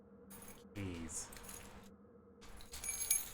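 A set of keys jingles in a room in two bursts of bright metallic rattling, near and fairly quiet, with a short gap between them and a louder shake at the end.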